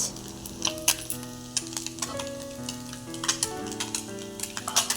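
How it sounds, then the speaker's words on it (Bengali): Tangra fish frying in oil in a covered pan, giving a steady, close sizzle and crackle with scattered sharp pops and light clinks throughout. "চলো আমি এখন ঢাকা দিয়ে ভাজছি মাছ"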